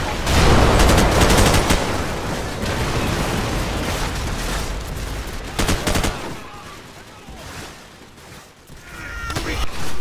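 Heavy gunfire in the video game Call of Duty: World at War, dense rapid bursts and volleys that pause briefly before resuming, loud and close, with a voice calling out amid the shooting.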